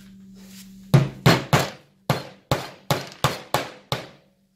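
Nine sharp hammer blows drive a nail into wood while building a beam frame, a quick pair, then a pause, then an even run of strikes, each ringing briefly and close.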